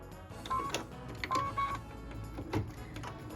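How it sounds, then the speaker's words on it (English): An embroidery machine stitches a red satin outline around a barn design, its steady mechanical whir and needle clatter running quietly and continuously with a few small clicks. "what we're stitching right now is the beautiful satin outline that goes around our barn"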